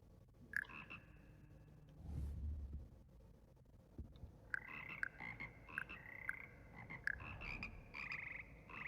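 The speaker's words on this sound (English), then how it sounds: "There's not enough frogs though for that." Frogs croak in Hogwarts Legacy, a video game: repeated short calls in an irregular rhythm, some overlapping, with a brief low rumble partway through and no talking.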